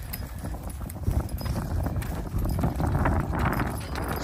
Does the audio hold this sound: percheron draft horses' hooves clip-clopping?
yes